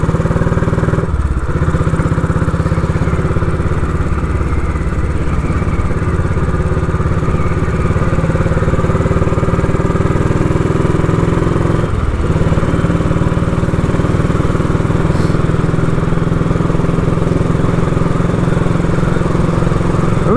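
A Royal Enfield motorcycle engine drones steadily and loudly while cruising on a gentle country ride to a café, a constant thumping hum broken by brief dips, with wind noise and no talking.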